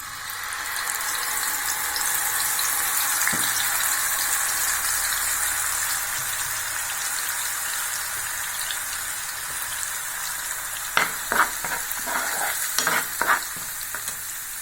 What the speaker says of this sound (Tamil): எண்ணெயை காய வச்சுருக்கேன், இதில் போட்டுக்கலாம்.